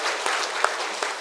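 A church congregation applauds after a choir and instrumental performance at a Sunday service, a short burst of scattered clapping with a few sharper claps standing out.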